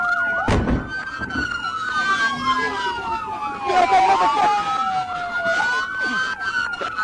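Police car siren wailing and yelping loudly in overlapping sweeps, with a thump near the start and a voice talking underneath throughout.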